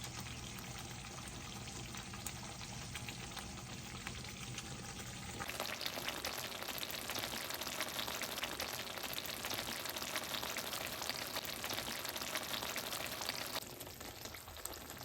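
Crab masala roast fries in a pan with a steady, close sizzle and crackle, turning noticeably louder and busier partway through before easing back near the end.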